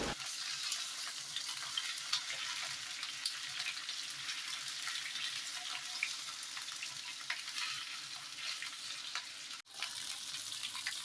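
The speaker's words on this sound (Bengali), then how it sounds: "মাছগুলো ভাজা হয়ে গেছে এবার আমি আরও যে কিছু মাছগুলো ছিল সেগুলোও দিয়ে দিলাম" Katla fish (catla carp) frying in oil in a pan, a steady close sizzle and crackle running throughout with no talk, briefly dipping near the end.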